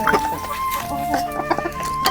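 Domestic chickens suffering from wheezing and coughing cluck and call repeatedly at close range, with sporadic short bursts over a steady background hum.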